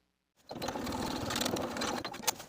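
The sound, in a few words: sewing machine stitching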